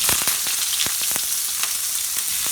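Prawns fry in a pan over low-medium heat, giving a continuous sizzle with irregular sharp pops and crackles, close and fairly loud, with no talking.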